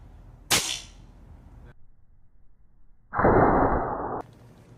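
An airgun fires an exploding gummy pellet at a clay target: one sharp, loud crack that trails off, then after a pause a second dense, hissing burst lasting about a second.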